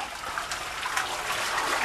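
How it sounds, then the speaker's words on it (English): A toilet flushing on recycled greywater gives a quiet, steady rush and trickle of water filling the bowl, close by and continuous with no voices. "I flush and here the right water comes out."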